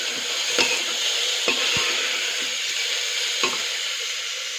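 Khichri for a baby sizzles as it fries in a pan, with a loud, steady hiss close by. A few soft scraping strokes of stirring cut through it, and no one talks.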